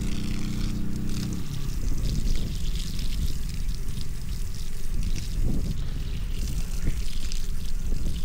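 Water runs steadily through an electric tankless water heater's tap under test, giving a continuous, loud, near pouring rush with no talking.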